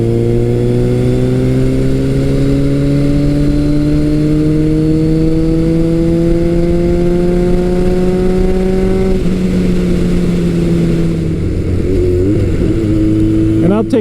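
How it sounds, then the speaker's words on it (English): A Kawasaki motorcycle fitted with a Delkevic exhaust is ridden under load, its engine note climbing steadily in a loud, close howl, then dropping briefly as it shifts before rising again. "This bike will make the hair on the back of your neck stand up with the pull from the engine and just the howl from that Delcovic exhaust."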